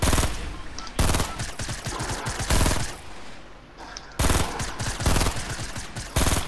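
Rapid bursts of gunfire from the video game Fortnite, loud and close, coming in several dense volleys separated by short pauses.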